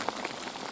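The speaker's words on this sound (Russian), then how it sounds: "Вон как идет дождик-то, блин." Rain falls steadily on a fishing trip outdoors, a soft even patter of drops on surfaces heard close and alone.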